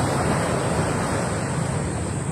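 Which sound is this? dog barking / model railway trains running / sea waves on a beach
sea waves on a beach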